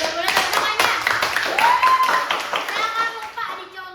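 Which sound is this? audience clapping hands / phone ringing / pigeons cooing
audience clapping hands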